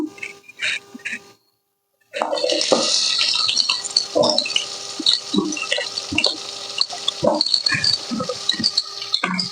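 Onion and green chilli pieces drop into hot oil, setting off a loud, steady sizzle and crackle with popping bursts, after a brief pause.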